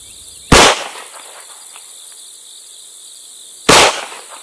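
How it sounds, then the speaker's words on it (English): Two sharp, loud reports from a .40 caliber Glock pistol crack out about three seconds apart, each ending in a short decaying ring, with quiet background hiss between them. "particularly shooting this 40 caliber Glock"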